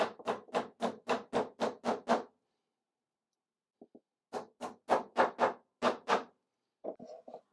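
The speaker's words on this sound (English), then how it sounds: "And now I can use my cute little hammer" A small hammer or mallet strikes wood in quick, evenly spaced blows during woodworking, a run of about eight taps, then a pause, two faint light taps, and another burst of sharp knocks, close and fairly loud.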